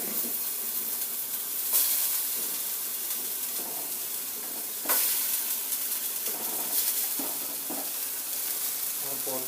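Ginger and garlic sizzle and fry steadily in a hot pan for a veg egg tomato gravy, with a few stirring scrapes and clinks breaking through the constant close crackle.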